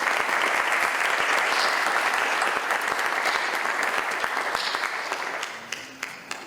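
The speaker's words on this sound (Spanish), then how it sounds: "muchísimas gracias por el aplauso" Sustained audience applause fills a lecture hall after a talk and screening, a dense, steady wash of many hands clapping that slowly thins out toward the end.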